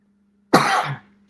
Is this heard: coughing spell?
yes